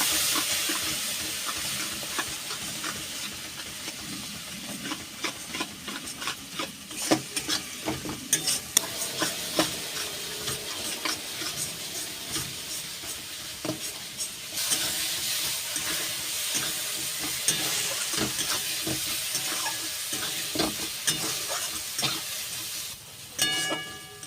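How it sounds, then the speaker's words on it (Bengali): Spices with turmeric and chilli powder stir-fried in oil in a pan for a fish and brinjal curry, a steady loud sizzle broken by repeated scraping strokes of a spoon throughout, with no voices. "এইবার সমস্ত মশলা একটু ভালো করে কষিয়ে নেব"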